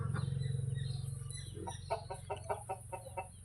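A chicken with a wheezing respiratory illness clucks in short repeated bursts at close range, with a rasping low rattle before and between the calls.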